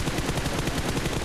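Continuous rapid automatic gunfire from the BGMI battle royale game, a steady loud rattle of close shots with no break.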